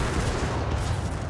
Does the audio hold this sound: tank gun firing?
yes